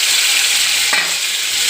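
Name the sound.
bitter gourd frying in hot oil in a wok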